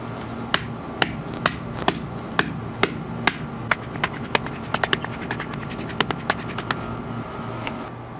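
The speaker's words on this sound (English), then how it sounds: "Now you can use a hammer or a mallet." A mallet pounds chunks of dry clay on a hard surface repeatedly, sharp thuds landing at an uneven pace that speeds into quick clusters, fairly close and alone.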